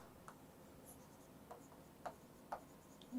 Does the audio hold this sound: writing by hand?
yes